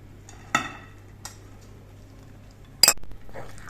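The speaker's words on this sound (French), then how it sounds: "Donc il faut remuer l'ensemble." Utensil scraping and clinking in a bowl as dried fruit, raisins and apricots soaked beforehand, is stirred into Christmas cake batter; a few sharp clinks stand out over a quiet background.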